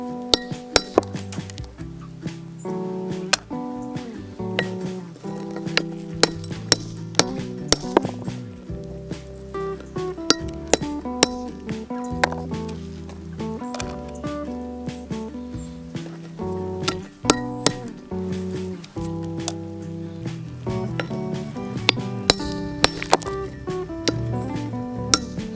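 Rhyolite and agate stones clink and clatter into two rock tumbler barrels, a long run of sharp, irregular knocks and rattles of stone on stone and hard plastic, close and fairly loud, with no voices.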